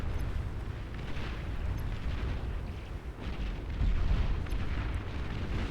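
Dense, continuous rumbling explosions and booming fire from a naval battle in the strategy game Beyond All Reason, as a battleship destroys a commander unit, loud and sustained with no clear pauses.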